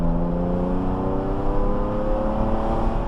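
A classic Lamborghini Countach or Ferrari Testarossa engine heard from inside the cabin, with a steady, smooth hum that climbs slightly in pitch while accelerating in gear. It stays fairly quiet and continuous, with no talk.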